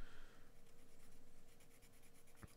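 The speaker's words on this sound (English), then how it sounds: "I'm going to grab a 2H pencil for further down." Graphite 2H pencil shading a mountain drawing on paper, a steady soft scratching with quick rhythmic strokes, close and fairly quiet throughout.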